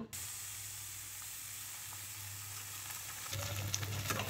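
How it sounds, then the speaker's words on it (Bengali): Fish frying in fish oil in a pan, a steady close sizzling hiss that grows slightly louder and crackly toward the end. "মাছের তেল দিয়ে মাছ ভাজি করলে খুব সুন্দর একটা গ্রান করে"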